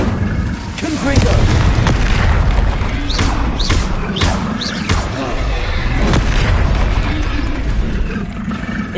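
Confringo blasting spells go off in the Hogwarts Legacy video game, a run of loud booming explosions with mechanical, ratchet-like crackles, several sharp bursts spread across a continuous noisy game soundscape.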